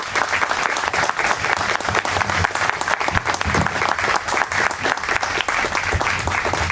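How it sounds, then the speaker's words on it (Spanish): An audience at a Spanish-language talk breaks into loud, sustained applause, dense clapping from many hands for several seconds. "Un fuerte aplauso."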